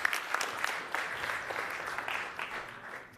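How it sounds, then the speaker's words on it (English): Conference audience at a high-level data economy event applauds a speaker, a fairly faint, even spread of clapping from a seated crowd that continues for a few seconds without talk. "Give a big applause to Bill Rosenblatt."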